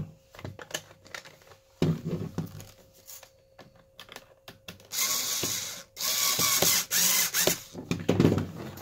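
Spring and end cap being fitted into a lock mechanism: close, sharp clicks and plastic knocks in uneven bursts, followed by longer scraping and rattling stretches.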